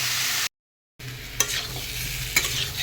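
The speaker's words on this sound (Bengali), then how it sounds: "এবার ভালো করে ভেজে নেব।" Kohlrabi fries in a pan for a potato and small carp fish curry, giving a steady sizzle with two sharp spatula scrapes. A brief silent gap comes early.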